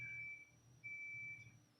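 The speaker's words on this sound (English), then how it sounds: "Pardon the beeping. I was doing laundry." A laundry machine beeps indoors, sounding two long, steady electronic tones separated by a short pause, clear and moderately loud against a low background hum.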